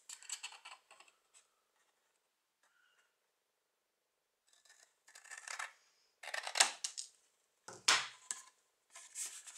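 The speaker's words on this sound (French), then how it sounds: "on va couper comme ceci" Paper is cut with scissors for a handmade box, crisp close snipping strokes in bursts separated by a silent pause, with louder slicing runs toward the end.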